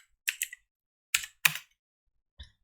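Keys clack on a computer keyboard as a word is typed into a Chrome browser's address bar: a few crisp, close keystrokes in small clusters with short gaps, no talking.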